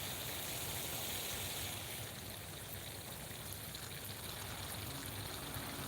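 Steady spray of water from a garden hose watering plants in a suburban homestead garden, a continuous broadband hiss that runs unbroken and fairly close for the whole stretch.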